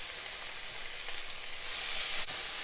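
Tomato, mint and coriander leaves sizzle in a pan for egg biryani, a soft, steady frying hiss heard alone at low level.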